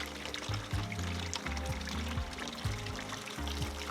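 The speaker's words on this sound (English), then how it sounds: "pulling this pin and setting it in the middle, and then the water will all come out" Water gushes from an RV water heater relief valve after its pin is pulled, a steady loud pour and splash with rhythmic gurgling surges roughly every half second, close by and with no talking.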